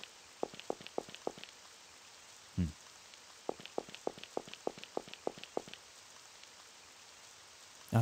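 Rain falling in the video game Amayado Bus Stop, heard as sparse, regular drip-like taps in two bursts with a duller thud between them, faint overall.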